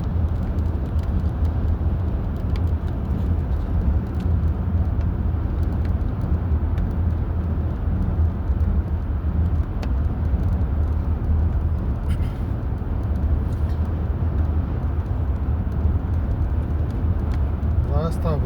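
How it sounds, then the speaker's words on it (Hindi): Steady broadband road rumble of cars passing over a bridge, heard from a vehicle travelling beneath, continuous and fairly loud throughout. "ये पुल के ऊपर से गाड़ियाँ जा रही हैं"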